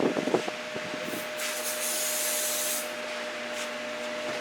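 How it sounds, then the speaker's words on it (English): Bursts of aerosol brake cleaner hiss onto a 2015 Corvette Stingray throttle body, a steady pressurized rush lasting a couple of seconds after a few soft clicks and handling noises, fairly close. "spray with some brake clean"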